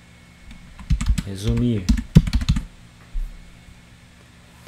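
Quick keyboard typing on a computer while a note is written, clicks mixed in with someone talking over them, then a few stray taps at the end.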